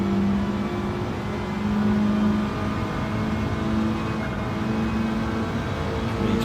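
A Subaru rallycross car accelerates uphill at a Suzuka race event, its engine note droning loud and steady with rising pitch, continuous and close throughout.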